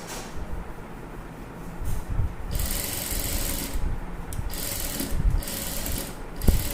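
Sewing machine stitching the neck of an embroidered blouse, a close, steady whirring mechanical patter running in bursts with short pauses and slight changes in speed.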